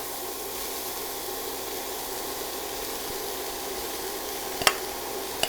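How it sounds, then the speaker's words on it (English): Beef dry roasting in a hot pan with no oil, a steady soft sizzle and hiss throughout with a couple of brief sharp clicks near the end. "Before I put the oil in, I'm going to dry roast my beef"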